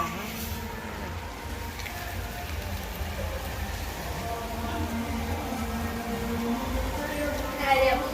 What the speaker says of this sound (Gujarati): આજે તો કેવો સીયુ વરસાદ આવે રહ્યો